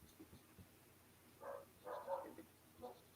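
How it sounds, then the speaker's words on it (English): Several dogs bark a few times indoors in the background, faint and somewhat distant, in short separate bursts. "And my dogs are starting to bark."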